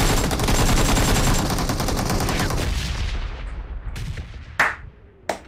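Rapid, dense gunfire from PUBG Mobile, a battle royale game, roars continuously for about three seconds as a shotgun fight unfolds, then thins to a few isolated, sharp shots that ring out against quieter surroundings.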